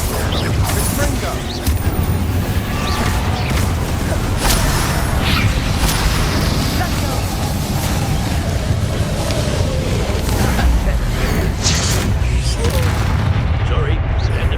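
Confringo blasting spell explosions in Hogwarts Legacy, loud rumbling booms and crackling bursts layered over a dense, continuous combat din, with voices calling out during the fight.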